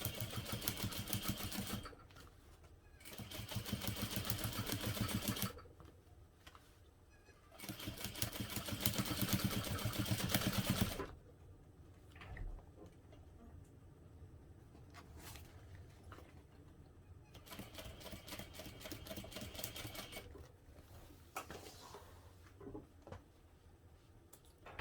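Sewing machine stitching a tote bag seam, three quiet bursts of rhythmic needle chatter separated by pauses, followed by a long stretch of softer continuous stitching and handling sounds.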